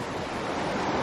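River water rushes in a steady, broad wash outdoors near Hanksville, Utah, heard up close with no voices.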